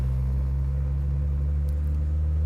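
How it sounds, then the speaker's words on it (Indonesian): A modified Honda Civic EK3's engine idles steadily with a deep, throbbing exhaust rumble that shakes the car, close and constant throughout with no speech. "suara idle, suara mesin sama suara knalpotnya juga udah Geter banget kan."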